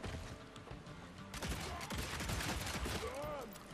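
In the video game Evil West, a shoot attack produces a rapid flurry of gunshots and impacts that swells midway amid a dense game soundscape with whooshing effects. The bursts play under a fairly quiet overall mix.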